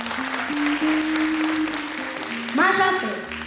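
A concert audience claps in a burst of applause at a year-end studio showcase, with a person's voice speaking over the clapping at moderate loudness.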